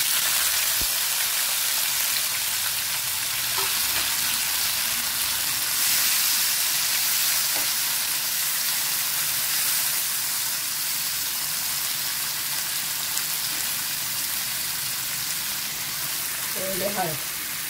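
Garlic, cumin, mustard seeds and asafoetida sizzle steadily in hot oil in a pan, a dense continuous hiss with faint pops and crackles throughout.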